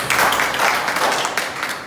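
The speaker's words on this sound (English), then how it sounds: "A round of applause." Audience applause at a Toastmasters club meeting, a short burst of many hands clapping together at a fairly close, even level.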